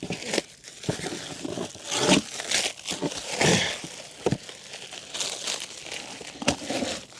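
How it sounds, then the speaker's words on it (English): Blade slicing through a cardboard shipping box around a spare tire, giving irregular crinkling, scraping and tearing bursts at close range with short pauses between strokes. "I'm just cutting the cardboard."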